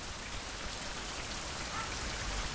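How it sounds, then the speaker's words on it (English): Rain in the survival video game Survival: Fountain of Youth, a steady, even patter of drops on surfaces, moderately quiet and continuous with no talk. "And I wish this rain would stop."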